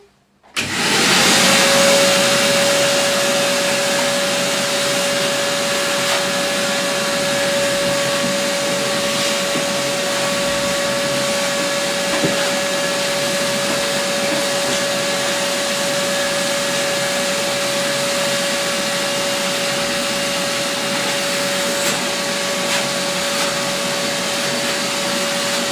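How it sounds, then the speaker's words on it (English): A vacuum cleaner hoovers a floor during dog grooming at home. It switches on with a rising whine, then runs as a steady, loud drone with a constant high tone for the whole stretch, with no talking. "I'm just going to hoover this floor a bit."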